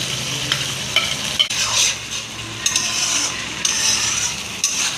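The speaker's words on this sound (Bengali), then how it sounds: "এবার আমি আদা রসুন কাঁচা লঙ্কা পেস্টটা দেব" Ginger, garlic and green chilli paste frying with lightly browned onions in a pan, a steady close sizzle broken by repeated scraping stirs of a spatula against the metal, no talking.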